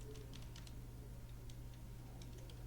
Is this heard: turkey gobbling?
no